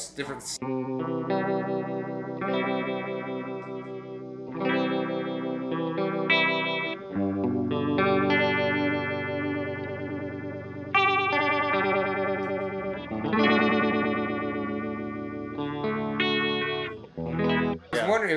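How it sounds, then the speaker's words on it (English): An electric guitar plays chords and single notes through a Fender phaser pedal, its swirling sweep moving from a slow phase rate to a fast one, loud and sustained throughout with no talking. "transition between the two to get from your slower phase to your faster phase"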